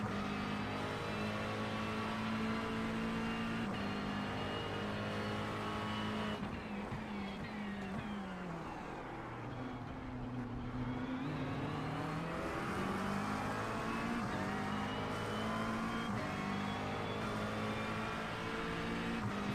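Race car engines roar continuously in a Sebring sim racing game, with a second car closing in and passing around the midpoint, its pitch sweeping down then climbing again through gear changes, loud and steady with no talk.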